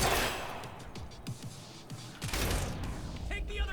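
Rapid gunfire from a heavily recoiling gun in the video game Quantum Break, a string of sharp shots rattling off across the clip, with a louder burst near the end amid game noise.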